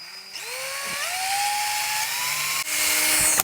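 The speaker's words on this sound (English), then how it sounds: "Let's drill ourselves a second hole for the bridge ground." A power drill whines up to a steady high pitch, holding as it bores a hole through a wooden guitar body for the bridge ground, with a brief dip near the end.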